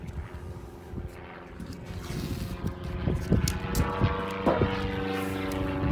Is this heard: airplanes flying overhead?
yes